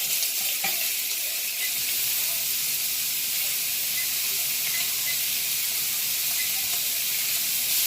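Beef cooks down in a hot pan with a steady, loud, close sizzle and hiss of frying that runs unbroken throughout, with a few faint clicks underneath and no talking.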